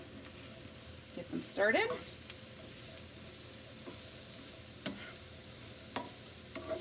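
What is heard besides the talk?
peppers sizzling and being stirred in oil in a pan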